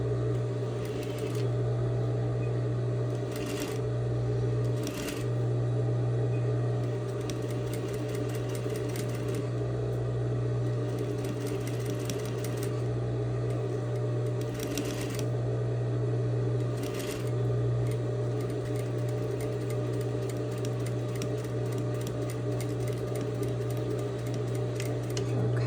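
A sewing machine stitches a seam along the edge of a folded fabric sample with a steady, close, continuous mechanical hum. The motor briefly dips and restarts a few times, and no one speaks.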